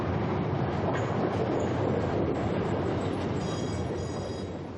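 A steady, dense rumble of a train rolling along fills the whole stretch, loud and continuous, easing slightly toward the end.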